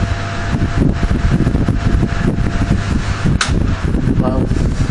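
A vintage electric fan runs on high speed with a steady loud whirring drone and a faint rattle, while someone talks over it.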